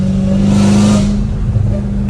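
A Dodge Hellcat Redeye fitted with catless pipes revs hard, a loud, raw engine roar swelling for about a second and then settling into a rumbling idle, heard up close and on its own.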